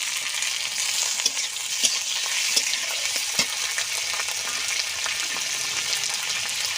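Prawns fry in a pan, a close, bright sizzle with a few sharp scrapes and knocks as they are stirred, steady throughout and with no voices.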